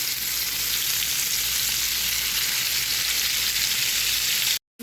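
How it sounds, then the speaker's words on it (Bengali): Hilsa fish frying in extra virgin olive oil, a steady dense sizzle that runs unbroken and loud, close up, then cuts to near silence just before the end. "এখন এখানে মাছটা দিয়ে দিব এবং মাছটা ভেজে নিব"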